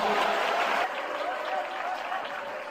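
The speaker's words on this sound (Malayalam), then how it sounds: "മനസ്സിലായവർ കൈയടിച്ചു ദൈവത്തിന് സ്തോത്രം ചെയ്യാം." A congregation at a Christian sermon claps together, making a dense, steady wash of applause that is loud at first and then eases slightly but keeps going.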